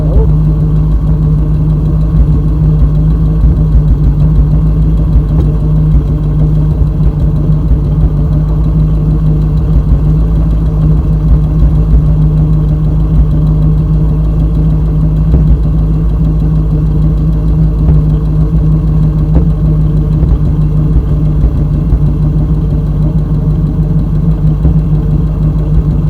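An old Hemi-engined vehicle runs steadily, a continuous low engine drone that stays even and fairly loud for the whole stretch, with no voices over it.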